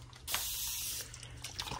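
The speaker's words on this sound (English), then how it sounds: "My spray bottle." A hand spray bottle from a barber setup gives a quick pump-and-spray burst, a short hissy spritz followed by fainter clicks and sprays.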